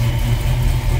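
A 1969 Chevrolet Impala Custom two-door hardtop's original big block V8 idles with a loud, steady low rumble and slight uneven lope, close up with the hood open.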